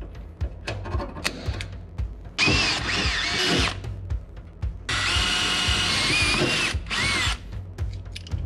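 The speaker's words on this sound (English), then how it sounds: "so I'm going to use that bit, drill those out" A power drill with a number 7 bit bores out holes in the body of a 1966 Mustang during a hydraulic clutch upgrade, two long loud whining runs close up, separated by short clicks and handling knocks.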